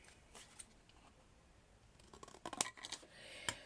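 Scissors snipping material to size for a miniature vintage garage diorama: a quiet stretch, then a few sharp, close cuts clustered toward the end, fairly faint overall.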